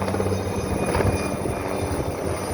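An aircraft flies over a forest fire near Mukho Port in Gangwon Province, giving a steady, loud engine drone that holds for the whole stretch with no break and no talk over it.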